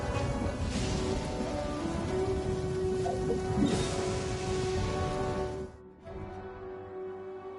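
Rain falling steadily in Genshin Impact near Nazuchi Beach, a dense even hiss with a faint low rumble and a sustained tone underneath, cutting off abruptly near the end as the rain stops.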